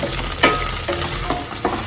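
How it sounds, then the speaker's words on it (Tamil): Green chilies sizzle and crackle steadily in hot oil while making tomato chutney, with a few brief stirring scrapes and no talking. "இப்போ இந்த பச்சை மிளகா வெடிச்சது போட்டு பாருங்க"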